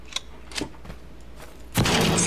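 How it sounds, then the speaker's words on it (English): A small explosion in Totally Accurate Battlegrounds, a sudden loud burst near the end that follows several quieter thumps and pops, with the blast's noisy roar continuing to the cut. "That's small explosion."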